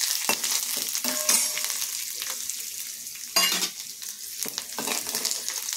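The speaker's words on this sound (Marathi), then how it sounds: "लसणाचे बारीक बारीक तुकडे करायचे, छान खरपूस तळून घ्यायचे। मिरची आणि कढीपत्ता" Finely chopped garlic, green chilli and curry leaves frying in hot oil in a pan, a steady crackling sizzle with bursts of sharp spattering and occasional stirring scrapes, no voices.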